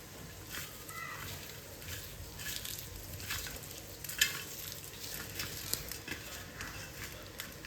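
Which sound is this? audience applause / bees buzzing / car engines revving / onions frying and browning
onions frying and browning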